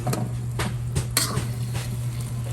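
Pork adobo being stirred in a pot, with a utensil clinking and scraping against the metal in short repeated strokes over a steady low hum, close and moderately loud.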